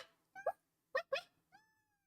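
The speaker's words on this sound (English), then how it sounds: "He meowed right in my mouth." A cat gives a few short, close meows in a quiet indoor space, with brief pauses between the calls.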